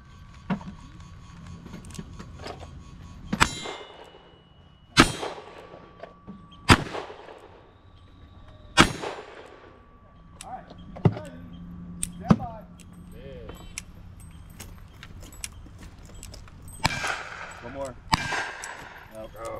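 At a shooting stage, gunshots ring out one at a time with pauses between them, some followed by metallic clangs from steel targets, while people talk quietly in the background.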